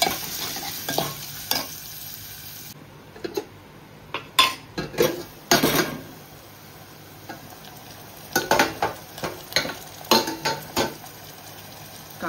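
Chopped onion cooks in a pan for a Maharashtrian dal bhat and vegetable meal, with soft sizzling beneath intermittent metal-spoon stirring and scraping clatter against the pan.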